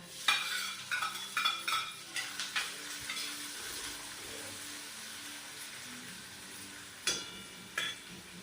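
Onion frying with cumin in hot oil gives a steady soft sizzle, with a spatula scraping and clinking against the pan in quick bursts at the start and again near the end.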